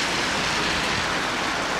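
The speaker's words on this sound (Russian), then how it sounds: "Дождь идет." Steady, dense rain hiss during an April thunderstorm in the evening, broadband and continuous with no pauses, like heavy rainfall heard from nearby.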